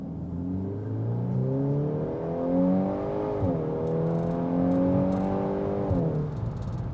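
A 2025 VW Golf R in race mode accelerates hard through its 7-speed dual clutch automatic, heard from inside as a rising engine note, a quick shift dip, then another climbing pull under steady road noise.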